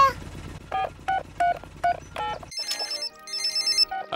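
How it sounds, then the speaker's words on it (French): A cartoon telephone rings with a series of bright electronic tones, several short bursts followed by a higher trilling melody, loud and alone without speech. "Allô? Allô, Papa Pig?"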